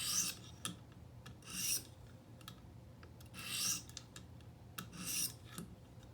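A knife, apparently a 5.11 recurve, is drawn across a whetstone in repeated rasping strokes, four longer scrapes separated by shorter taps and brief pauses, close and fairly quiet with no talking.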